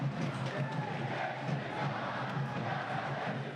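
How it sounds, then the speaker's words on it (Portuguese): Avaí football supporters cheer and chant in the stadium stands, a dense rhythmic crowd roar with pulsing low chanting throughout. "E não é que a torcida compareceu e fez bonito nas arquibancadas?"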